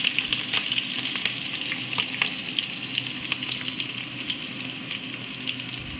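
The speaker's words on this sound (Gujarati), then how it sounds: "તડકો લગાવી દીધો." Tempering spices for tadka sizzle and crackle in hot oil, a steady close frying hiss dotted with sharp pops and spits, with no talking.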